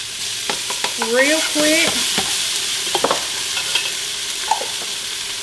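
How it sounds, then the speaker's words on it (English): Ingredients for a vegetable beef soup stirred in a pot, with a spoon scraping and clinking against the sides amid a soft sizzle, a few distinct knocks and a brief spoken phrase. "got this stirred around just a little bit"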